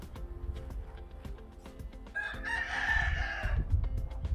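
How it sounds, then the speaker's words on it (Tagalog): A rooster crows loudly once in the middle, rising and falling over a second or so, with other birds and a faint rural background near a garlic garden. "Daming manok ng mga kapitbahay namin."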